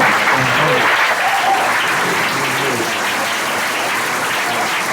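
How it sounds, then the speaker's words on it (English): A dense round of audience applause fills the room with steady clapping, sustained for several seconds at an even level, with a few voices audible beneath it. "Let me give a round of applause for Fresh"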